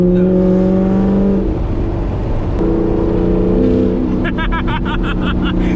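A C7 Corvette Grand Sport with headers cruising at night, its V8 droning steadily from inside the cabin, the engine note rising and shifting as it accelerates.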